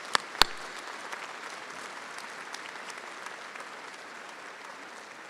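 Steady audience applause fills a university commencement hall, a sustained, moderately loud patter of many hands with a couple of sharper nearby claps at the start.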